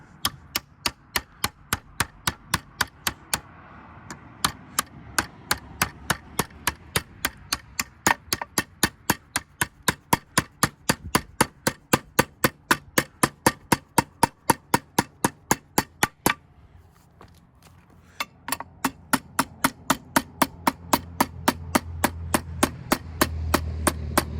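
Rapid, steady hammer blows bending a clamped metal piece, dozens in a regular rhythm, with one brief pause before the pounding resumes.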